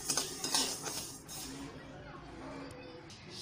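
Rice dry-roasting in a pan, stirred with a utensil that clinks and scrapes against the metal in quick knocks early on, then softer rustling, close, with a voice speaking over it.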